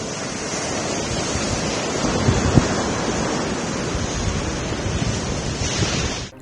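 Ocean waves rolling onto Marina beach in Chennai, a steady broadband wash of surf with wind buffeting the microphone, continuous and fairly loud with no speech.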